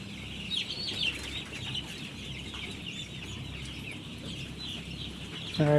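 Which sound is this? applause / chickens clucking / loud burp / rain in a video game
chickens clucking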